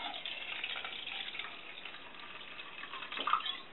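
Water poured into a pot for a grate oven, filled up to a disc placed inside; a steady close splashing pour runs throughout and swells briefly near the end.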